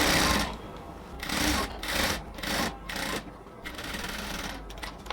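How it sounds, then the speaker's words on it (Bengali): A sewing machine stitches a band collar onto a dress neckline, its motor running in several bursts of rapid stitching separated by short pauses, close and fairly loud with no talking. "পুরো গলার কাপড়গুলোকে এভাবে কলারের ভেতরে দিয়ে আমরা হচ্ছে সেলাই করে নিচ্ছি।"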